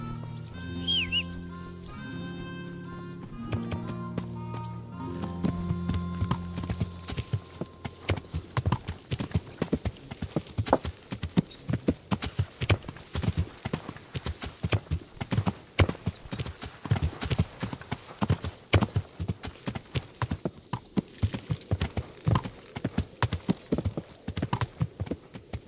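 Hooves clip-clop in a steady rapid rhythm in Kingdom Come, loud and close, following a few seconds of tonal game music, with a brief whinny early on.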